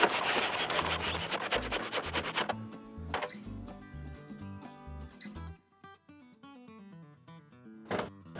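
A saw cuts a steep 65-degree angle through a wooden deck joist, with rapid rhythmic rasping strokes that fade to quieter scraping and a final short stroke.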